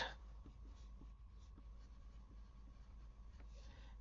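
Pen or marker scratching steadily while notes are written down during a geometry lesson on rectangular prism nets, continuous and close over a low background hum.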